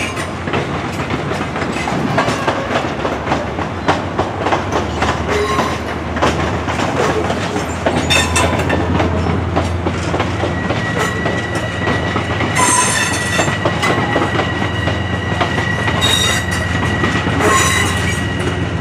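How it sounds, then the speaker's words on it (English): Amtrak passenger train rolling past at the Croton-Harmon station on the Hudson line, a loud continuous rumble with rhythmic clickety-clack of wheels over rail joints and brief metallic wheel squeals, close by and steady throughout. "Oh, here comes Amtrak."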